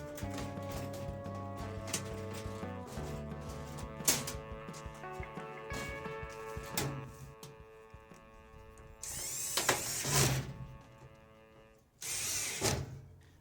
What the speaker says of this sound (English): I'm going to put this back panel back on